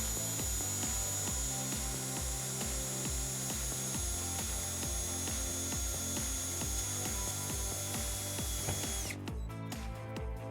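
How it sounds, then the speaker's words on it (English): A power driver sinks a screw into a car's body panel beside the taillight box on a 2008 Hyundai Sonata, a steady close whirring with ratcheting pulses for about nine seconds before stopping. "we're just gonna put a screw right in next to it"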